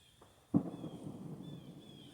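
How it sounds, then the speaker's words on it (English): A distant gunshot from hunters comes as a single dull, muffled boom followed by a low rumbling tail that slowly fades, with a faint steady whine in the background. "Another gunshot."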